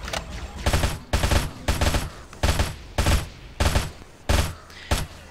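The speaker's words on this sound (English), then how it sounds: "There's like five things shooting at you." Enemy gunfire in Halo with the SPV3 mod comes in rapid repeated bursts, about nine loud automatic volleys in quick succession with brief gaps between, close and dense, no talking.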